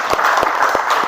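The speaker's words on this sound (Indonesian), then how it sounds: "berikan tepuk tangannya" Classroom applause, a short burst of several quick claps from a small group, close and fairly loud, with no talking over it.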